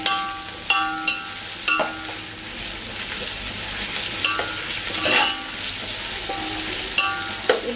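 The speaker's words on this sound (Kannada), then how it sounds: "ಮೆಂತ್ಯ ಸೊಪ್ಪು ಹಾಕ್ತೀನಿ. ಇದು ಚೆನ್ನಾಗಿ ಫ್ರೈ ಆಗಲಿ." Fenugreek leaves fry in a pan for a biryani, making a loud, steady sizzle broken by repeated sharp clinks and scrapes of stirring.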